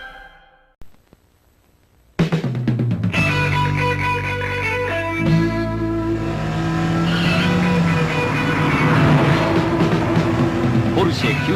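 A Porsche 935 Turbo engine revs hard toward the redline in a toy commercial, a loud roaring surge that rises and sustains after a quiet opening, overlaid with music and a voice.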